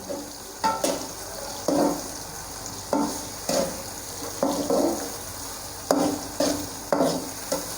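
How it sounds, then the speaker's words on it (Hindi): Onions being stirred with ginger garlic paste in a pan, a spoon scraping and turning the mix in a steady rhythm of short strokes about once a second over a soft sizzle, close and moderately loud. "अब इसको हम मिक्स कर लेंगे।"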